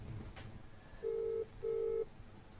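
A WhatsApp call rings out on a phone with two steady tones in a row, each about half a second, separated by a short gap, clear and close.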